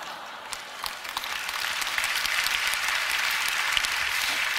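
Congregation at a church prayer gathering clapping steadily, a dense wash of many hands building slightly and holding for several seconds with no voices on top.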